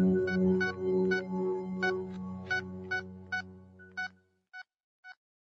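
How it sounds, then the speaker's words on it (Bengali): Telephone dialing tones as someone places a call: a string of short, evenly spaced electronic beeps, first over a low droning background and then alone, ending with two isolated beeps. "এই কথা মাথায় আসতেই আমি অবনীবাবুকে ফোন করি।"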